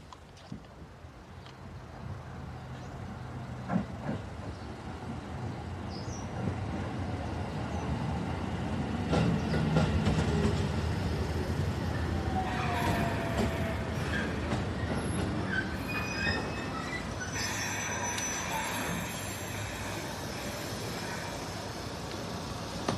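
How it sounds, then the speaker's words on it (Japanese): A train pulls into a Japanese station, its rumble swelling and steadying over about twenty seconds, with wheel squeal and faint clicking of the rails. No one speaks. "まもなく上り列車が参ります。"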